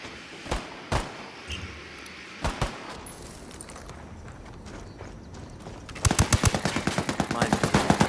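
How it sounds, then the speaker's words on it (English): Gunfire in Ghost Recon Wildlands: a few isolated shots ring out first, then a sharp rapid burst of automatic fire crackles close and loud. "Shit, taking fire."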